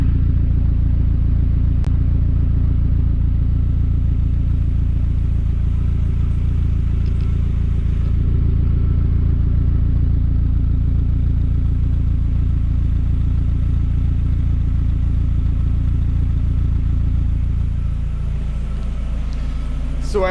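A Mazda Miata fitted with a new catback exhaust idles nearby, a loud, deep, steady low rumble with an even pulse that holds for about twenty seconds, easing slightly near the end.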